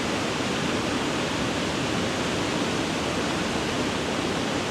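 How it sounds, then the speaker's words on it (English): Waterfall at Pontneddfechan in Wales, heard from the top of the falls: a loud, unbroken roar of falling water with an even hiss, steady from start to finish and with no other sound. "So now we are on top of that waterfall"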